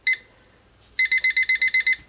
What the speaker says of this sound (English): And we're going to set the timer.